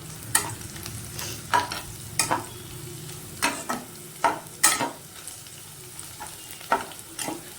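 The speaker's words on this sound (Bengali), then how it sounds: "পেঁয়াজটা এবার আমি হালকা করে ভেজে নিচ্ছি।" Onions frying lightly in a pan sizzle steadily, broken by sharp scraping stirs of a utensil that come at irregular intervals every half second to a second, close up and without talk.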